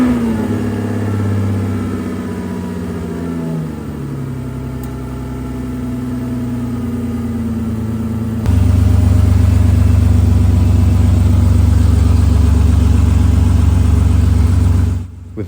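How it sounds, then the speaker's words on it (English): Engine-swapped Aston Martin DB9 running loud and close, a steady idle that shifts pitch at about four seconds, then a heavier, louder run from about eight seconds with strong low rumble until it cuts near the end. "So I connected it back up and gave the engine another try."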